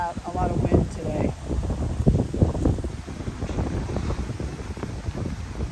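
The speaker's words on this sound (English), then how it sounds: "I really hope this wind doesn't make it terrible for you guys to listen to this, because we really have a lot of wind today" Strong outdoor wind buffets the microphone with a steady, loud low rumble and gusting noise throughout, with no clear talk over it.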